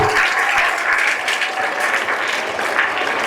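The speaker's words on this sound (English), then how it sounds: "Let's give her a big round of applause." An audience at a school investiture ceremony claps steadily and fairly loudly, a dense patter of hands filling the whole few seconds.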